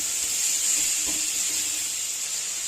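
Chicken and spices fry in a pan with a continuous, even sizzle and hiss, close and fairly loud, with a faint stir or clink midway.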